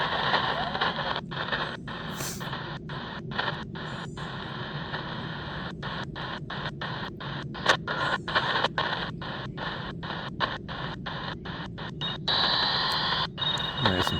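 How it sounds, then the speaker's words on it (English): A teletype signal comes through a Sangean ATS 909 shortwave radio scanning the 8–9 MHz band in a park, a steady buzzing data tone chopped by regular short gaps, faint and continuous under background static. "There's some teletype there."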